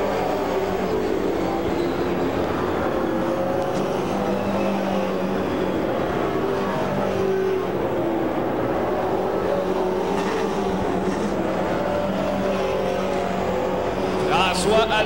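Pro Stock race cars at Autodrome Granby run side by side through turn four, a continuous loud engine roar with a rise near the end, heard under constant excited commentary.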